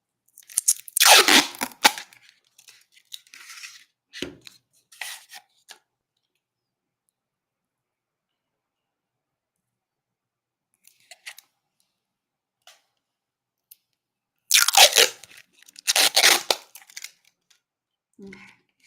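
Plastic film peeled off a nail stamping plate during an unboxing, heard as a few close crackling, crinkling bursts separated by long quiet gaps, with no talking.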